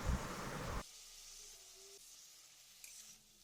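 Chopped onion, garlic and ginger hit hot white oil in a kadai with a loud burst of sizzling that quickly settles into a quieter, steady hiss with faint clinks.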